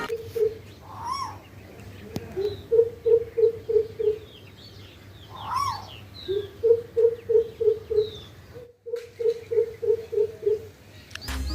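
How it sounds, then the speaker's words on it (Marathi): Greater coucal: deep, resonant hooting calls repeated in quick runs of six or seven notes, one run after another, with fainter bird chirps in the background. "आता जो जड आवाज ऐकला ना तो भारद्वाज पक्षाचा"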